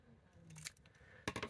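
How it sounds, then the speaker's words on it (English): Scissors snip through a paper craft star-and-triangle piece, a short crisp cluster of cuts near the end after a faint rustle of handling paper, close and alone. "I'm going to have to snip off"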